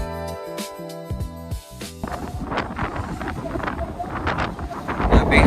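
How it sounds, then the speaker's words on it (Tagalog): Strong wind buffets the microphone on the open deck of the Costa Serena cruise ship, a loud, continuous rushing roar with gusts that build toward the end, following a brief stretch of steady tonal background. "Grabe yung hangin ang lakas."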